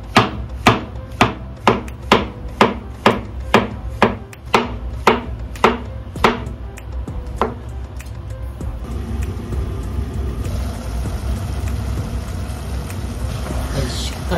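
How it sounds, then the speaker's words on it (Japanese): Knife slicing fresh mushrooms thinly, stalks and all, on a cutting board: about fifteen crisp, evenly spaced chops in a steady rhythm, close and clear, then the cutting stops and a low background rumble remains. "マッシュルームも 泥がついていたら軽く落としていただいて、でこの軸ごと薄くスライスしていきます。"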